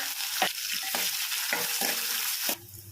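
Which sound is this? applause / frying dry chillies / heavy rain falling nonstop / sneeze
frying dry chillies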